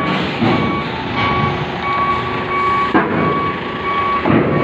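A trailer truck loaded with steel reverses onto a ship, its reversing alarm beeping in a steady repeating rhythm over loud engine rumble and ambient noise, no talking.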